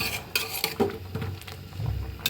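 Spices being stirred and fried in a large pot, with metal spoon scrapes and clanks against the pot over a soft sizzle, close and brief with irregular knocks.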